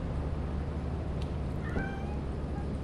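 A cat from the Lethal Company video game, heard as a short meow-like cry partway through, rising over steady low background game noise with no talking.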